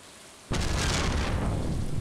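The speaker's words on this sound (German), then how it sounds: "Jetzt schlagt ein Blitz in mich ein." A lightning bolt strikes in the farming game Stardew Valley: after near silence, a sudden loud thunderclap bursts in and holds as a broad, roaring rumble.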